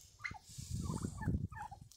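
A domestic turkey gobbles in a farmyard, a loud, rapid burst of throaty rattling calls close by with no talk.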